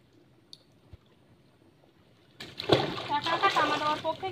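Fishing net hauled with a pole through shallow tidal river water, giving a burst of close splashing and sloshing that starts partway through after near silence and continues steadily to the end.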